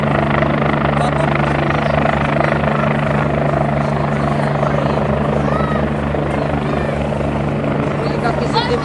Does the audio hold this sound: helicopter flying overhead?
yes